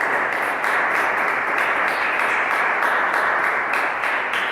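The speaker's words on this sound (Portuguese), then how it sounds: "Vamos aplaudir e glorificar o nome do Senhor Jesus" Dense, sustained applause from a large church congregation, loud and steady throughout with no pauses.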